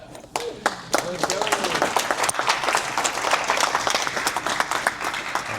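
An audience at a real estate event claps for the speaker, a sudden burst of close, sharp applause that keeps going, with crowd noise and a voice over it.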